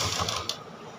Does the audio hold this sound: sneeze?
no